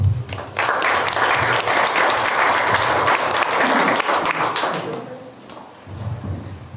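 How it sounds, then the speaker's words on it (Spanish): An audience at a book presentation breaks into loud, sustained applause lasting several seconds, then it fades out and low murmuring and movement follow near the end. "Fuerte el aplauso, por favor."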